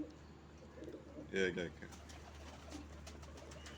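A female pigeon coos once, softly and briefly, in a hoarse low burst amid faint outdoor background, while someone talks quietly nearby.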